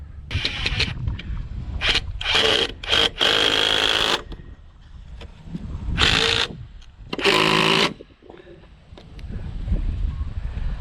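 A power drill drives construction screws into a rafter of a small log house under construction, with several loud bursts of whirring alternating with pauses and short scraping handling noises.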